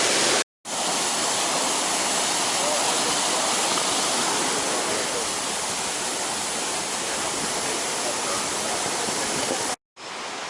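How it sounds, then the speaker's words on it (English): A river tumbling down a series of small falls through woodland, a loud, dense and continuous rushing roar close by, broken only by two short gaps, with no voices. "the sound of the river, which goes down a series of smaller falls"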